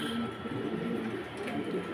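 Low, rolling coos from two healthy pigeons held for sale, repeating steadily close by, with faint voices murmuring underneath.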